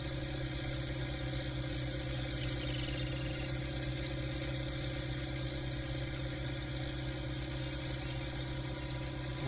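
A modified HMT 3522 tractor driven at speed, its engine a steady, continuous drone with a constant loud hum and a faint high whine, unchanging throughout.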